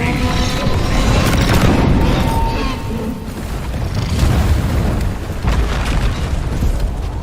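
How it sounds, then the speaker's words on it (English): Grenade blast in a video game, a loud booming explosion with rumbling debris that rolls on through the whole stretch, with further dull bursts and battle noise behind it. "Grenade!"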